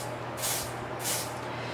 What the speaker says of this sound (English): So I'm gonna spray it again.